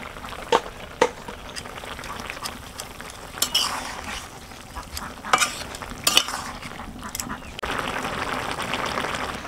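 Pumpkin greens and tengra fish curry simmer in a pan in a village kitchen. A soft steady bubbling runs throughout, broken by a few sharp clinks of a utensil against the pan, with no talking.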